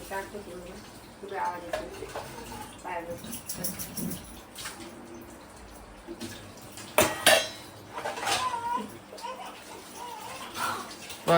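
Utensils being scrubbed and washed at home, with repeated clinks and clatters of metal pots and plates, some louder knocks midway, while people talk nearby.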